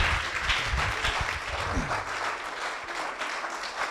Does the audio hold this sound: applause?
yes